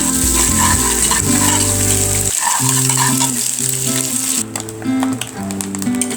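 Egg fries with cabbage in a pan, a loud continuous sizzle and crackle running the whole way, with a sudden shift partway through as the frying sound changes character.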